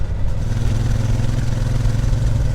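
A Triumph Bonneville T120 motorcycle engine drones steadily and loudly while being ridden, a continuous low, throbbing roar with slight fluctuations and no voices.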